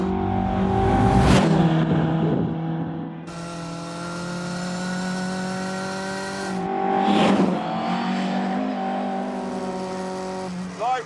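A Mark 1 Lotus Cortina races around Cadwell Park on a sunny day, its engine droning steadily with rising and falling revs, shifting pitch between gears and occasional tire scrub, loud and close throughout.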